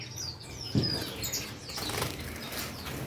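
Amadina finches flutter and flap their wings in a cage, with a soft burst of wingbeats and faint chirps over a constant rustling background.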